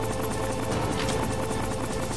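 A helicopter in the PS1 game Metal Gear Solid gives off a steady, loud rotor drone with a pulsing chop, heard on its own for a brief moment.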